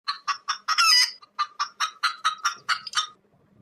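A village country chicken clucks in a quick series of about a dozen sharp, loud, close calls with brief gaps, alone, with no talking.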